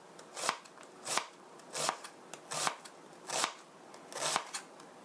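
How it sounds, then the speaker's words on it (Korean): Knife chops onion on a cutting board, seven or eight distinct crisp strikes at a steady, slightly uneven rhythm, close and clear with no talking. "이렇게 다지면 양파 다지기가 쉬워요"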